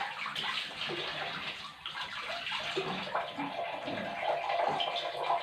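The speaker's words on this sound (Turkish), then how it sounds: "Bir elimi yıkayayım da" Hands being washed under a running kitchen tap in a home kitchen, a steady close rush of water with splashing and gurgling throughout.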